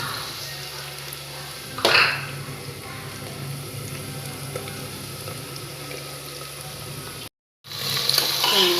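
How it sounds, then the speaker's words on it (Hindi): Onions dropped into a hot pan with garlic and green chilies for chicken curry, giving a soft steady sizzle with a burst of scraping and stirring near the start and again at the end after a short gap. "अब हम इसमें ऐड कर लेंगे प्याज।"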